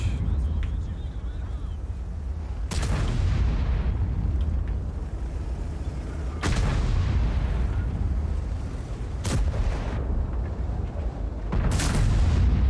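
Several heavy 60TP tank cannon booms in a video game at irregular intervals, each a sharp loud blast with a rumbling tail, over constant low engine drone.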